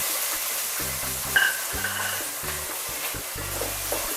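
Green peas stirred with onion and ginger-garlic paste frying in oil for street-style samosa filling, a steady soft sizzle and hiss with faint stirring scrapes and a few low clunks, no talking.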